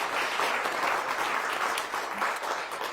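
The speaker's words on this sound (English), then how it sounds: "So round of applause for Tracy." An audience claps steadily and fairly loudly at a Resolution Night 2023 event, with no pause from start to end.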